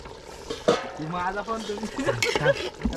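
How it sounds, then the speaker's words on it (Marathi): Chicken biryani in a cooking pot, lid off, gets stirred with soft scraping and wet shuffling sounds, faint and close, under someone speaking. "झाकण काढते आणि हलवून घेते थोडस"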